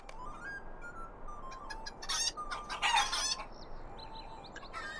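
Rooster crowing in the online game Lord of the Rings Online: several loud crows and clucks in quick succession over faint background ambience, with some thin bird chirps mixed in and no voices.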